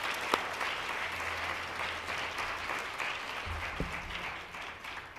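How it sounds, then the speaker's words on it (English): Steady applause from a meeting audience fills the room, a continuous even patter of clapping hands lasting several seconds with no talk over it. "Could you please give all of these women a round of applause?"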